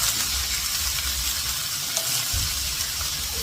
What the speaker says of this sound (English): So I'm going to saute this on medium high. We got our grease nice and hot.